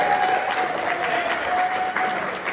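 Audience applause fills a roast event, a dense, steady wash of clapping that holds at full strength throughout with a faint crowd murmur beneath.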